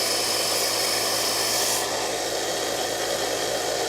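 A TIG welding tungsten tip is ground to a sharp point, giving a continuous loud abrasive whine and rasp with no pauses and no talking.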